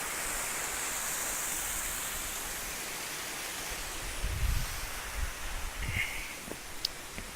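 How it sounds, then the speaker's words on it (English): A steady broad rush of Purling Brook Falls in Springbrook National Park, a big waterfall with a huge drop heard from a distance, with some low rumbling bumps and faint handling noises toward the end. "So there's a big ass waterfall there,"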